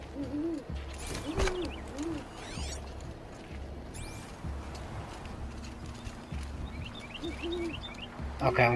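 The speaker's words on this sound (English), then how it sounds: "An owl." Soft hoots of an owl repeat in Horizon Zero Dawn: The Frozen Wilds over the game's background of mechanical clicks and hoof-like clopping, with scattered bird-like chirps.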